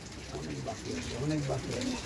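Madras pigeons brought from Delhi coo in a loft, with low, rolling coos that overlap close by against a steady background murmur.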